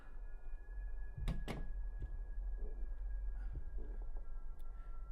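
A drawer sliding open in a video game, two sharp close thumps followed by softer knocks and rattles over a low steady hum, no voices.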